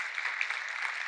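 An audience claps together in a steady, continuous patter of applause to welcome a speaker at an event in Gujarat, moderately distant and without voices.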